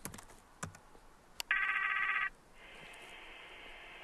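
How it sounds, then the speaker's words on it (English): Outgoing video call ringing through a BGAN satellite terminal application: a loud, steady electronic ring tone lasting under a second, then a quieter sustained ringback tone, with a few faint clicks before it and no talking. "I simply have to open the application and dial Lee's number"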